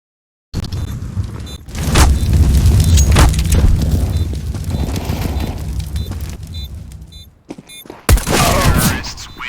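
A grenade blast in Counter-Strike: Global Offensive during a live match, a loud booming burst over rumbling game noise, followed by a sharp second bang near the end.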